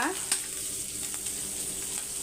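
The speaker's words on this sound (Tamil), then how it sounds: "வறுத்து எடுத்துக்கோங்க நல்லா" Dried seer fish (vanjaram karuvadu) frying in a pan over low heat gives a steady, close sizzle with a faint scrape of stirring, and no voices.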